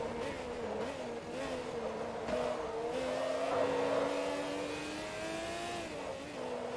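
A race car in Forza Motorsport 2 on the Sunset Peninsula Grand Prix circuit holds a steady engine drone that rises and dips through gear changes, with tyre noise underneath, loud and continuous.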